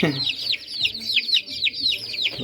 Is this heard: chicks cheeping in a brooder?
yes